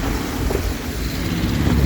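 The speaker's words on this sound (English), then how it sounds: "excuse the noise of the traffic, it is a busy road" Continuous traffic noise from a busy city road, a broad steady rumble and hiss of passing vehicles with no clear individual events, no voices.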